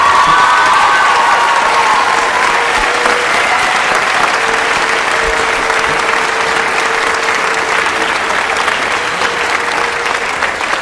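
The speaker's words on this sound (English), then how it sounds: "please help me give a thundering round of applause to Mrs. Knappenberger" A large crowd at a middle school 8th grade recognition ceremony breaks into loud, sustained applause, thick continuous clapping mixed with some cheering and shouts, holding steady for about eleven seconds.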